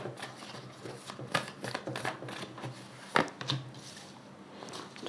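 Tarot cards shuffled by hand for a reading, a close, soft riffling and rubbing of card stock with a few sharper snaps and taps, steady for several seconds with no talking.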